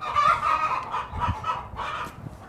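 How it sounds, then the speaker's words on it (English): Chickens at a chicken house cluck and squawk in a close, noisy chorus of short repeated calls, with no voices over them. "Chicken so noisy."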